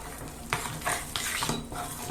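A spoon scrapes and knocks against a pan as a thick, sweet millet dough with raisins and jaggery is stirred, making several rhythmic clanking strokes close by.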